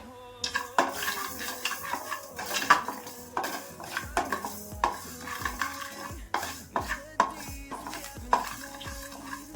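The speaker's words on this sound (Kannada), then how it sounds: "ಇದು ಕೆಂಪು ಆಗೋ ತನಕ ಹುರ್ಕೊಂತಾ ಇದ್ದೀನಿ." Fenugreek seeds roast in a pan while a metal spoon stirs them, giving repeated sharp scraping clinks in an uneven rhythm over a faint sizzle, close and clear with no talking.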